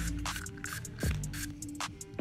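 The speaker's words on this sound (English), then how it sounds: "So I'm just gonna start spraying that in there." Short bursts of 91% isopropyl alcohol are sprayed into a vape tip to dissolve wax, giving several quick, close, hissing puffs separated by brief pauses.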